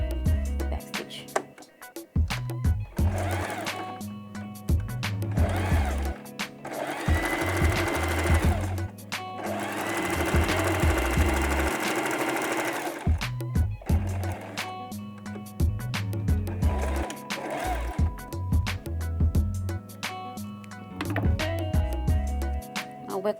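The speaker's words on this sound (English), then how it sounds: "and sew all the way down. Make sure you start with back stitch." A sewing machine stitches fabric with back stitching, its motor running in long rapid bursts with short stops and restarts between runs, close and steady.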